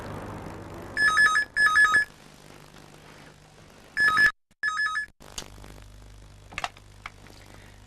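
An old landline telephone rings indoors in short paired bursts of an electronic bell, repeated with pauses between, then quiet room tone with faint clicks before someone picks up.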